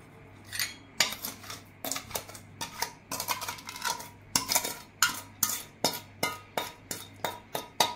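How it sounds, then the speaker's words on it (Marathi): Melted butter and powdered sugar mixed for a chocolate dry fruit cake, a utensil clinking and scraping against a bowl in a steady run of sharp taps, close and alone. "हे बटर आणि पिठी साखर चांगलं मिक्स करून घेते"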